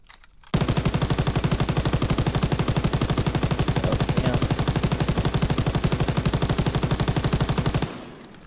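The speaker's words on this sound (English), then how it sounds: "Then we got the MG42." MG42 light machine gun in a Call of Duty game, firing one long, very rapid, loud burst of evenly spaced shots that runs for several seconds and then cuts off, with no talking.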